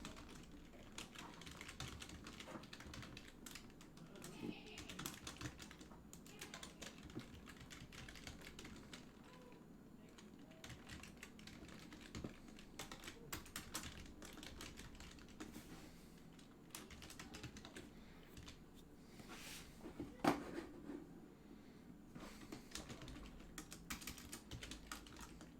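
Steady, faint typing on a computer keyboard during online chemistry office hours, a continuous patter of key clicks with no talking.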